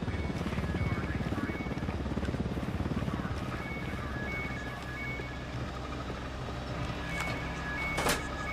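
A patrolling helicopter drones overhead in the tactical shooter Ghost Recon during Operation Kingslayer, a continuous rotor rumble that eases slightly midway, with a few sharp clicks and tones near the end.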